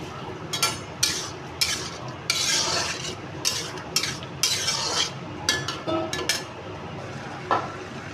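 Spoon scraping and stirring through chana dal and oil in a pan, a run of irregular scrapes and clinks with a faint sizzle beneath, close and fairly loud, no voices.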